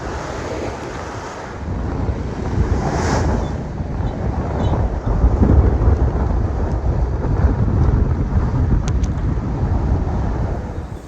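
Strong wind roars steadily over surging sea and waves on an offshore sailing yacht making about 8 knots in 26 knots of wind, a continuous loud rushing wash with swells rising and falling throughout.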